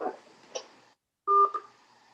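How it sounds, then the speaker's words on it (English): A short run of telephone keypad tones sounds as a number is dialed, a couple of faint beeps followed by a brief gap and then a louder, clearer pair of dual tones. "I'm going to call you on the phone and put you on speakerphone."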